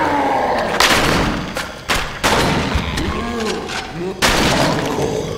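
Loud gunfire in House of the Dead: Overkill, with several heavy blasts spread through the scene, mixed with shattering impacts, thuds and game voices.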